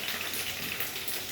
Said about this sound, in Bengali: আর এখানে পটলটা তো ভাজাই হচ্ছে।